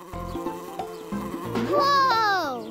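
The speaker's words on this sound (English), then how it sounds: "This thing flies too. And it buzzes." A cartoon flying insect with yellow stripes buzzes in a wavering, rising drone that swells toward the end, set over light musical tones with no talk.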